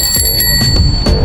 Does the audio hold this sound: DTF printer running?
no